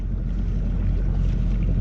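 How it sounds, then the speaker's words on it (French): A sailboat motoring under engine power on a solo voyage, a loud, steady low rumble of the motor mixed with wind buffeting the microphone, continuous and close with no talking. "j'ai dû prendre la décision de mettre un petit peu de moteur, de faire route au moteur"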